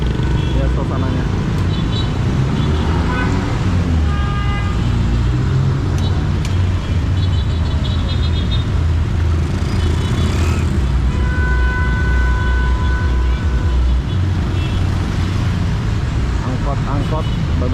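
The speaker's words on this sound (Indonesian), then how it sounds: "Ini macetnya bro." Dense street traffic in a jam in Medan, Indonesia on an afternoon, including angkot minibuses: a loud, steady engine rumble and road noise with short horn toots rising above it, and voices talking throughout.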